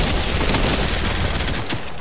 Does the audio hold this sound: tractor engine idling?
no